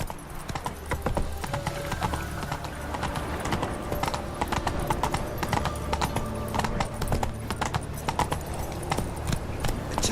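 Roach, Geralt's horse in The Witcher 3, gallops with a steady, continuous clatter of hooves that carries loud through the whole stretch, mixed with game ambience and music.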